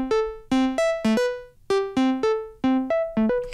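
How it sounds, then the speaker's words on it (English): A synth voice from Ableton's Meld synthesizer plays a bright, plucky melodic phrase of short stepped notes with quick decays, clear and alone with no talking. "I have this little meld voice and it sounds like this"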